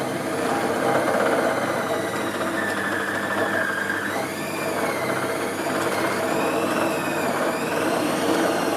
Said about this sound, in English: I turn it up to get the dough going round. I'm probably killing the motor in this thing